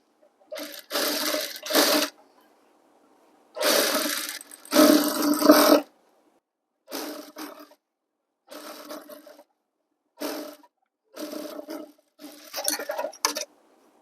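A sewing machine stitches the legs of school uniform pants in a series of loud whirring bursts, each lasting under a second to about two seconds, separated by short silences as the fabric is repositioned.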